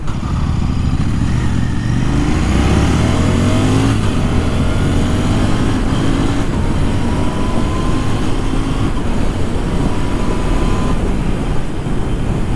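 Royal Enfield Interceptor 650 motorcycle with an aftermarket exhaust accelerating hard, a loud close engine note rising in pitch through the gears and then holding a steady roar.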